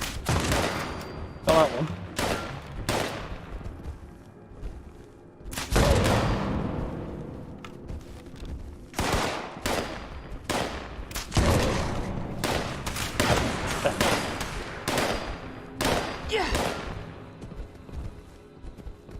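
Bursts of gunfire and explosions in the post-apocalyptic video game Fallout 76, loud volleys and booms recurring in clusters across the scene, with a player briefly speaking over the combat.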